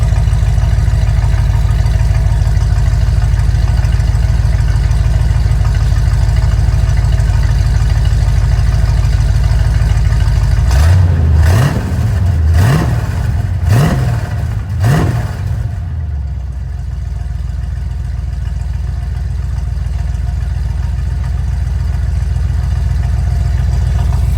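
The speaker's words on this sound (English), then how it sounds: "I think the cherry bombs sound pretty awesome. Let's set the phone up real quick. Give her a rev." A 1984 Chevy one-ton wrecker truck engine with cherry bomb exhaust drones steadily, then revs hard four times in quick succession, the exhaust barking loud and close before settling back to a rumbling idle.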